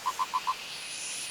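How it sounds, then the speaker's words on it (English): Purple frogs in a forest give four quick, evenly spaced croaking calls against a soft, hissing background of night ambience. "what sounds like an army of purple frogs on its way up"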